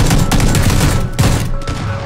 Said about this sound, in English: I'm here shooting single fire